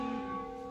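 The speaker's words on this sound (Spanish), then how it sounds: "Nos anuncia la campana que el tiempo se está cumpliendo." A church bell rings with a sustained, resonant tone that slowly decays, clear and alone with no talk.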